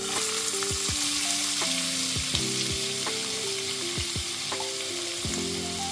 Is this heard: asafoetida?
yes